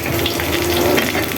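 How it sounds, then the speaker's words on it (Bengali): Lentil fritters (dal bora) crackle and hiss as they fry in hot oil, a dense close-up sizzle with no talk. "এই যে এখানে হচ্ছে ডালের বড়াটা ভেজে নেওয়া হচ্ছে"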